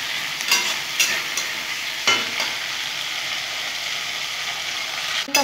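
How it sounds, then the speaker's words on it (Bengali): Potatoes with salt and turmeric fry in a pan, a soft continuous sizzle broken by several sharp scraping stirs of a utensil against the metal, close and without talk. "আলুটা খুব সুন্দর করে আমি ভেজে নেব।"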